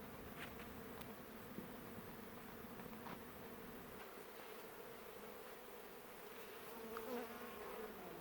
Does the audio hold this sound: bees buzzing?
yes